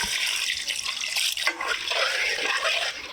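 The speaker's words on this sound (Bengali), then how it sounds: "এবার ঝোলের জন্য জল দিয়ে দিলাম" Water poured into a pot of mutton head and meat curry with potatoes, a steady close splashing gush that runs for about three seconds with a brief dip midway.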